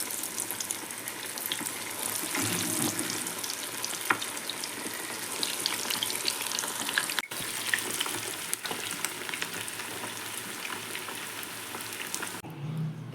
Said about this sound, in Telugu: లో ఫ్లేమ్లో వేసుకునేసి ఇట్లా నూనెలో మనం రెడీ చేసి పెట్టుకున్న లాలీపాప్స్ని వచ్చేసి ఇలా